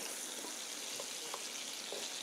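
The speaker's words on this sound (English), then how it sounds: "Onions, garlic, and pineapple frying in" Onions, garlic and pineapple frying in chicken oil for pineapple fried rice, a steady close sizzle with faint stirring clicks.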